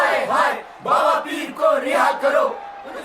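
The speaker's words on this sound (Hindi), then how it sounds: "बांद्रा थाने के बाहर आधी रात को काले लबादे में 50 से भी ज्यादा लोग नारे लगा रहे थे" More than fifty people in black robes chant slogans at midnight outside Bandra police station, rhythmic shouted phrases from a crowd in repeated bursts with short pauses between them, fairly close and loud.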